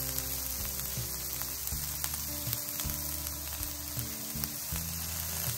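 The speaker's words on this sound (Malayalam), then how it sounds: "ആവശ്യത്തിന് ഉപ്പ് എന്നിവ ഇട്ട് വഴറ്റുക." Onion, ginger and green chilli sizzle and fry steadily in a pan for a Kerala-style banana flower cutlet, a continuous close crackling with occasional stirring and no talk.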